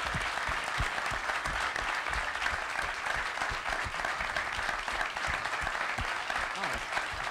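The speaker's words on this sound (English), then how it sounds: "if you guys can join me in giving them a round of applause for it" An evening audience at Adler applauds the participants with a sustained, even round of clapping from a sizeable crowd, steady and moderately loud throughout, with faint voices mixed underneath.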